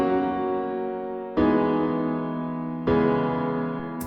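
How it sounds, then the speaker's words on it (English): A smooth descending chord progression plays as sustained, full chords, changing twice with clear attacks and stepping down the scale, loud and alone with no talk. "The next chord progression that I absolutely love I call the Smooth Descender and it sounds like this."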